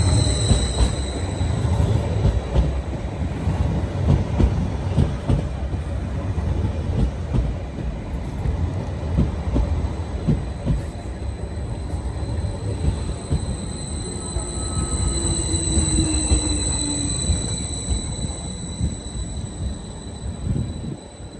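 A Greater Anglia train on the Stratford to Norwich service pulls into a station, with a steady rumble and rolling rail noise, a drawn-out wheel squeal and high whine that stay loud and close throughout, with no talk.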